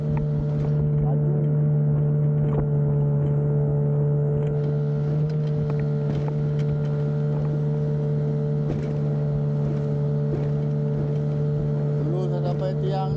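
A motorboat engine drones steadily at close range at Muara Bagan Lalang, a low constant hum with faint clicks and rattles over it.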